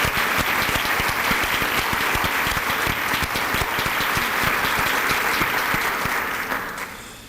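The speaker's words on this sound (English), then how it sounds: "would you please give them all another round of applause for their extraordinary contributions as well as your participation" A large audience at a university dedication ceremony gives a dense, sustained round of applause that fades out over the last second.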